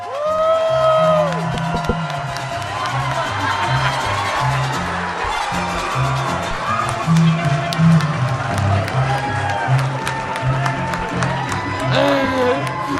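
A live comedy show crowd at Kill Tony cheers, whoops and claps loudly and steadily for a comedian, with voices shouting over the crowd noise throughout.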